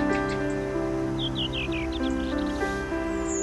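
A recording of winter-visiting thrushes, redwing or fieldfare, sends a run of high, thin chirping calls over a steady tonal background for a few seconds.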